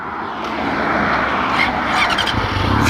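A Porsche wrapped in dark matte green drives past, a loud close engine roar with rushing road and tire noise that builds steadily as it goes by.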